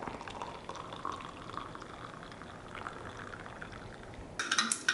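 Hot water poured onto a dehydrated soup mix, heard as a faint, steady liquid fizzing and bubbling, ending with a few brighter clinks and splashes.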